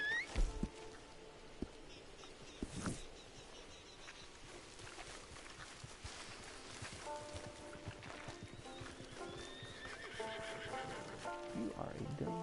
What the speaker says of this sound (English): You are a dumb, slow horse.